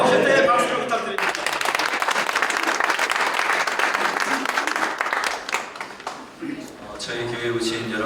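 A church congregation at an elders' association general assembly worship service bursts into loud, sustained applause to welcome the pastor. A voice speaks briefly before the clapping, and speech returns as it dies away.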